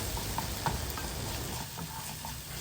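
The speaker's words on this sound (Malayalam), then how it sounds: "ഇത്രയും കൂടെ ചേർത്തിട്ട് ഒന്ന് വഴറ്റി കൊടുക്കുക" Masala with black pepper powder and turmeric sautéing in a pan, a soft steady sizzle with light stirring clicks and scrapes, fairly quiet and close.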